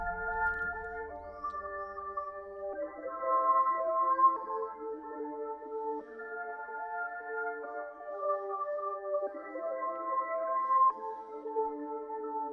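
Reversed synth keys from Sky Keys drenched in heavy reverb swell in sustained, layered tones that drift between chords, smooth and steady with no percussion, alone at a moderate level.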